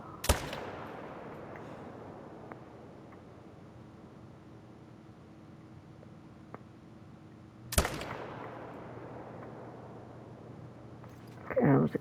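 A hunting rifle fires two sharp, loud shots several seconds apart in a hunting video game, each crack trailing into a long fading reverberation over a steady outdoor ambience.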